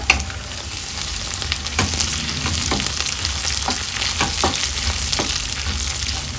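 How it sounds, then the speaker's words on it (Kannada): Green chillies, garlic, whole spices and about fifteen cashews frying in oil in a pan for a dhaba-style egg curry masala, a loud continuous sizzle with repeated scraping stirs. "ಒಂದು ಹದಿನೈದು ಗೋಡಂಬಿಯನ್ನು ಸೇರಿಸ್ಕೊಂಡು ಫ್ರೈ ಮಾಡಿಕೊಳ್ಳೋಣ"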